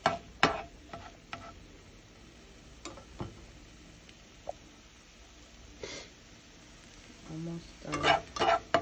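Raw eggs scrambled in a pan with a spatula: sporadic scrapes and taps of the spatula against the pan over a soft background, growing busier near the end, with no talking.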